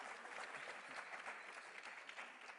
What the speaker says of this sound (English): No, like a real round of applause.